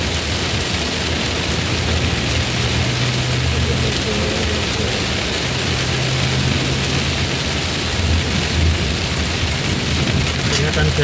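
Heavy rain pours down steadily on a forest road during a thunderstorm as an ambulance drives through, a loud continuous roar with low rumbling and engine hum underneath.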